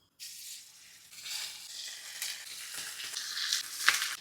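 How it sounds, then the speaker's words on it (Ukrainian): Steady hiss and crackle of unseasoned pork ribs frying in a hot oiled pan, close by, with a few sharper pops and stirring sounds toward the end. "І зараз виставляю сюди смажитися ребра."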